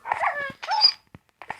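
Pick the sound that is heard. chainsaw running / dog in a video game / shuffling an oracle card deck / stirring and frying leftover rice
dog in a video game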